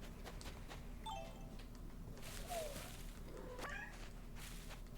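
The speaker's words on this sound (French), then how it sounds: "Pourquoi tu miaules, Chiara?" A domestic cat meows several times indoors, the calls clear and moderately close, rising and falling over a steady low background hum.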